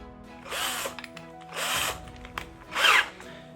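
A power drill bores a hole in a phone holder in three short whirring bursts separated by pauses, close and fairly loud, with no talking.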